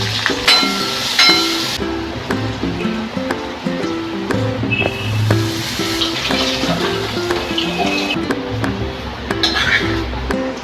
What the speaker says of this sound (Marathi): आता आपण हे तेल टाकून गरम करायचं.